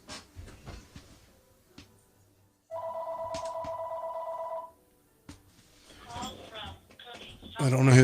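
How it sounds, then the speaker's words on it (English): A telephone bell rings in one steady two-second burst during a livestream test, preceded and followed by scattered clicks, thumps and a brief voice, with a loud rumbling noise at the end. "There goes the phone again."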